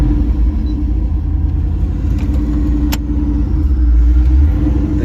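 A 1985 El Camino's engine roars during a burnout, a heavy continuous low rumble that stays loud and close throughout, swelling slightly toward the end.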